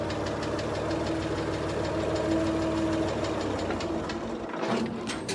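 A 1955 IH pickup engine runs in first gear with a loud, steady, knocking chug, then falters and sputters toward the end as it stalls.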